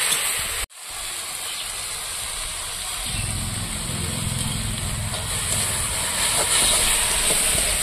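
Rohu fish pieces hit hot oil with a sudden loud hiss that settles into a steady, close frying sizzle with bubbling crackle, continuing alone without talk.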